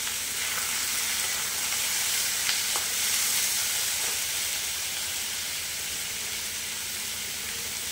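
Small chicken pieces fry with ginger-garlic paste in a pan, giving a steady, close sizzle and hiss that runs evenly throughout, with a faint stir or clink near the middle and no talking.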